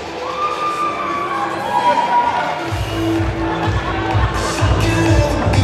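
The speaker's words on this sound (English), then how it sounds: "Big round of applause." Crowd at a sports model physique competition applauding and cheering, with rising whoops and shouts over a busy hall murmur, strongest in the second half.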